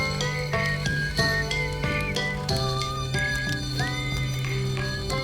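A whistled tune rings out in the video game Outer Wilds, a clear melody of sustained, gliding notes over soft ambient music with light chiming plinks, no talking.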